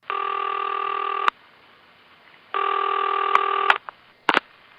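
A telephone rings in an old radio drama, two long bursts of a ringing tone separated by a pause, followed by brief clicks and a short tone as a receiver is handled, loud and close with no voices.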